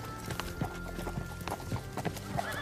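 Horse hooves clip-clop in a steady walking rhythm on firm ground, fairly faint and unaccompanied, with a brief whinny-like note near the end.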